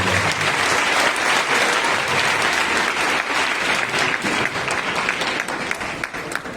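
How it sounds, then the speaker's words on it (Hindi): Church congregation breaks into loud, sustained applause during a sermon: dense crowd clapping holding strong for several seconds before beginning to thin near the end. "अगर आप इस बात से सहमत हैं तो जोरदार ताली अपने प्रभु यीशु मसीह के लिए"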